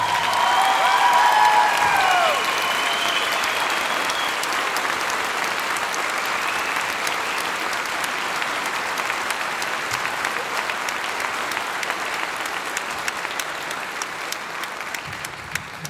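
Sustained crowd applause for a high school marching band at a fall band festival, dense and steady, with a few cheers at the start, gradually thinning slightly over its length.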